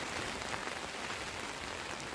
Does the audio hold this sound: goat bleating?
no